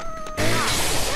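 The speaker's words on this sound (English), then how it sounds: "That was my cat meowing into the microphone." A house cat meows straight into a microphone, a short, close, loud cry. A burst of breathy noise follows the meow.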